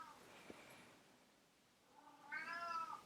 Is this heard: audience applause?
no